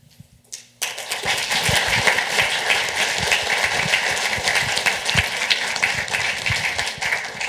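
Conference audience breaks into loud, sustained applause that starts abruptly and holds as a thick, even wash of clapping, close and full, with no talk over it.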